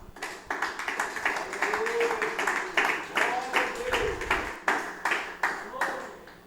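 A church congregation claps joyfully in a steady, rhythmic beat, close and lively, with a voice singing or speaking over the clapping.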